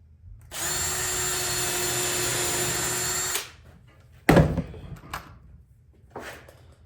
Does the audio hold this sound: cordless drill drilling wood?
yes